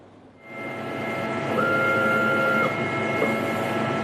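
3D printers at work producing custom body implants in a medical manufacturing center, giving a loud, steady mechanical hum and whir with faint tonal whines that swells in and then holds.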